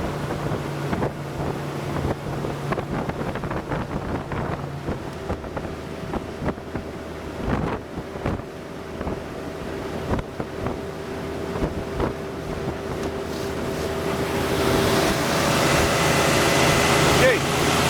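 A Grand Golden Line G650 RIB from 2022 runs at sea on a trial, its outboard engine droning steadily with hull slap and heavy wind buffeting the microphone, the engine note rising toward the end; someone speaks briefly.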